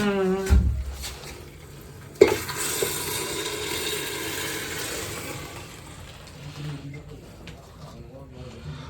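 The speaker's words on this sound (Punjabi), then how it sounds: "ਬਸ ਇਹ ਤੜਕਾ ਲੱਗ ਗਿਆ ਇਹਨਾਂ ਨੂੰ" A tadka, spices tempered in hot oil in a pan, crackles and sizzles with a sharp splash at the start, then a steady hiss that gradually fades, with a clank of a utensil and people talking quietly over it.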